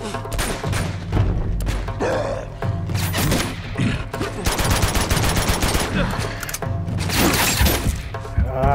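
Rapid gunfire in Uncharted 2: Among Thieves, loud, dense bursts of shots and cracks filling the whole stretch, with a few heavier hits mixed in and nobody talking.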